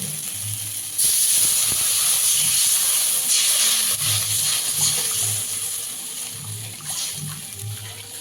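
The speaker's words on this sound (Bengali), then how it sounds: "মশলাটা কষানো হয়ে গেছে, এবার পরিমাণ মতো জল দিয়ে দেবো।" Water poured into frying spice paste for a chanda fish curry bursts into a loud hissing sizzle, which stays strong and gradually settles, with a low rhythmic thumping underneath.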